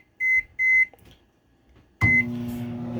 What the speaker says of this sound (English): First 5 minutes of the potatoes in the microwave done.